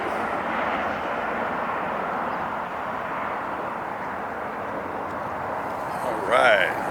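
A heavy jet airliner lifting off at LAX, its engine roar a steady broadband rumble heard from a distance throughout, with a brief rising whine near the end.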